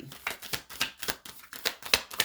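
A deck of tarot cards being shuffled close by in quick, rhythmic riffling bursts, about eight crisp flutters in a row with no talk over them.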